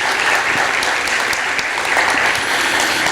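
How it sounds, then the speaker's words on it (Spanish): At a faith-and-science panel discussion, the audience gives a warm round of applause for an engineer panelist. The clapping is brisk and even, holding steady for the whole stretch. "le pido un fuerte aplauso para el ingeniero Jorge."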